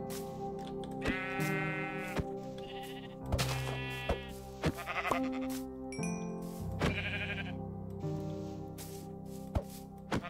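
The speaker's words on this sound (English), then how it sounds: "Oh, there's a bunch of sheep here." Sheep in the Minecraft video game bleat several times over about ten seconds, separate calls at moderate loudness with short gaps and no talk.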